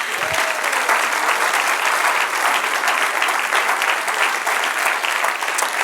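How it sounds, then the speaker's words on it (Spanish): A church congregation applauding after a pastor's introduction to an Old Testament class, a loud, dense and continuous burst of clapping from many hands that holds steady from start to finish, with no speech over it. "Dale un aplauso al Señor."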